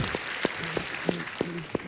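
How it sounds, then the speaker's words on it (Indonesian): A stand-up comedy audience gives a round of applause for a comic named Arif, sparse and fairly soft, with a few distinct claps standing out above a low crowd wash. "Sekali lagi boleh tepuk tangan buat Arif."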